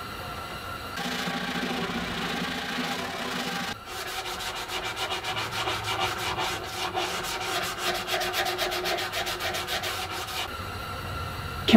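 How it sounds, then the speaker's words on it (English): Continuous sanding of a wooden saddle stand, a steady rasping rub with rapid rhythmic strokes through most of the stretch, close and moderately loud with no voices. "Now I get to finish sanding."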